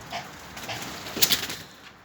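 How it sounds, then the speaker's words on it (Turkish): A rescued carrier pigeon coos softly a few times at close range, faint low calls over a quiet background with no talking. "Posta güvercinini de burada yakaladım."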